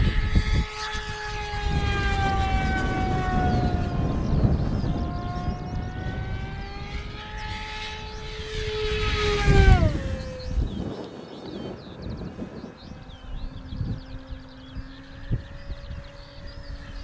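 A Durafly Me-163 Komet V2 RC model plane flies outdoors with a loud, steady whine. Its pitch sweeps and drops as it passes, then trails off to a fainter drone.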